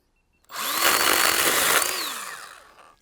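A Milwaukee Fuel 6-inch battery chainsaw cuts through a piece of timber, its motor whining loud and close for about two seconds before winding down as the cut finishes.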